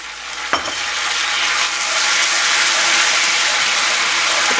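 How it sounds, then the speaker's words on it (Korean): Soy sauce hitting a hot pan for spicy braised tofu, a loud, close, steady hiss and sizzle that flares after a brief stir and holds for several seconds, with no talking. "진간장을 넣을게요."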